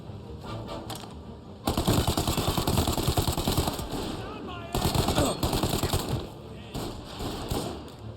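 Gunfire in the video game Mafia Definitive Edition, loud rapid automatic bursts in two long volleys with scattered shots between, close and dense, with voices faintly underneath.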